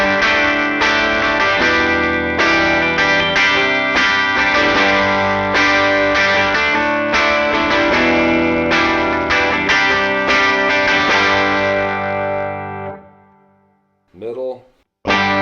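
Gibson '58 Les Paul clean tone through a 1967 Deluxe Reverb amp, steady strummed and picked chords ringing for about thirteen seconds, then a brief voice.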